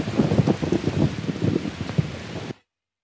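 Steady rain falls in a Hindi film scene as the weather suddenly turns, a dense wash of drops that stops abruptly after about two and a half seconds.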